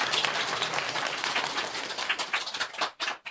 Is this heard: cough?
no